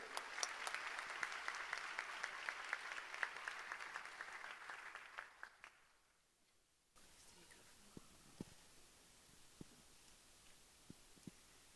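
Applause from a conference audience at a scientific foundation's opening plenary, a dense steady patter that dies away after about six seconds, then a quieter stretch of room noise with scattered sharp clicks.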